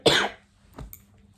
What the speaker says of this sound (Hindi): एक तो खांसी नहीं हट के दे रही मेरे को